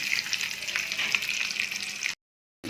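Chopped onions and green chillies frying in a pan, a loud dense hiss of hot oil that runs steadily, cuts out briefly, then resumes.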